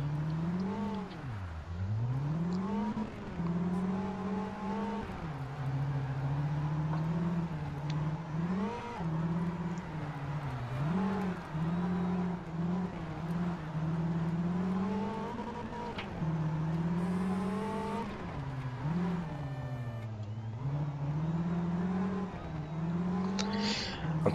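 A rally car in Sebastien Loeb Rally Evo, driven on ice, with a steady engine drone that rises and dips continuously as the driver revs and shifts through about twenty seconds, loud and close, without talk.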